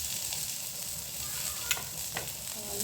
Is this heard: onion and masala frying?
yes